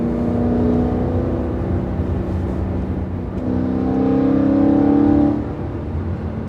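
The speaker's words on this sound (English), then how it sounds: "Yeah, car's running fine." A BMW E92 M3 engine runs while driving, a steady close drone that rises as it accelerates in the second half, then settles back, with no talk.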